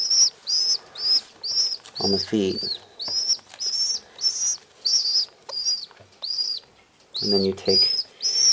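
Baby pigeon cheeping in high, rhythmic repeated chirps while being fitted with a leg band, close and clear, with brief bursts of someone talking between the calls.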